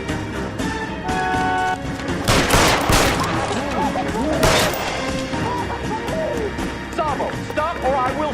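Gunfire in the crime video game L.A. Noire, a sustained volley of shots with sharp loud bursts mixed with shouting voices and background game music.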